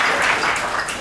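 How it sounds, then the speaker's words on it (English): Applause from an audience at a university talk on food deserts, a dense steady wash of clapping for about a second with no break. "I think she needs a round of applause for that"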